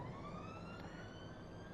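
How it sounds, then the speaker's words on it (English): A distant siren wails in the video game Train Sim World 6, a faint rising tone drifting over a steady low rumble of railway ambience. "A siren."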